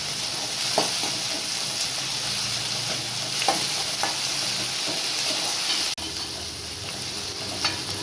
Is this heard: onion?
yes